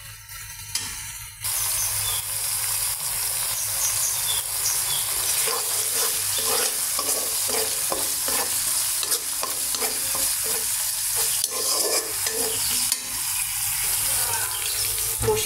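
A spice mixture is sautéed in a pan for a long time. A loud, continuous sizzle follows a brief quiet start, broken by frequent rhythmic scrapes and clinks of a spatula stirring.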